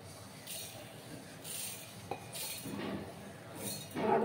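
Metal spoon clinking against a mixing jar while black mustard seeds are added, a few light, irregular clinks and taps close by, with faint scraping between them and no talk.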